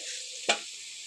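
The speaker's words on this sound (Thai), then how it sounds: "ตอนนี้เรา เจียวหอมกับกระเทียมรวมไปในกับเต้าหู้นะครับ เจียวให้เหลืองหอมนะครับ" Shallots, garlic and tofu frying in hot oil give a steady bright sizzle with one sharp crackling pop midway, close up and alone.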